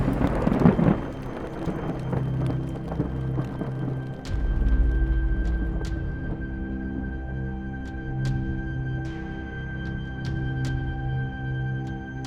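Steady rain with deep rumbling thunder sets a night scene in a horror story, the low rolls swelling strongly around the middle and continuing under the constant patter.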